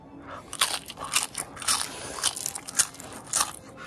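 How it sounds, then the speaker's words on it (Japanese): Crunchy grilled salmon skin is bitten and chewed close up. Crisp crackling crunches come in irregular bursts, with no talking. "鮭皮、焼きました。 鮭皮っす。 いただきます。"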